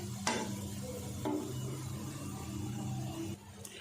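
Finely chopped onions, half a kilo, frying in a pot for chicken pulao, giving a steady close sizzle with a few sharp stirring scrapes, no talk over it.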